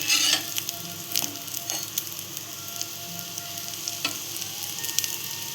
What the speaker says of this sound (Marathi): हे वडे तळताना घाई बिलकुल करायची नाही. स्लो गॅसवर चांगले तळून घ्यावे.